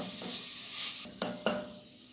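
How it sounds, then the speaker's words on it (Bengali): Cardamom, cinnamon and bay leaves fry in a pan for laccha semai laddu, a brief hissing sizzle with two quick stirring scrapes near the end, close up and without voices. "এলাচ, দারচিনি আর তেজপাতা এটা দিয়ে আমি ভেজে নিচ্ছি।"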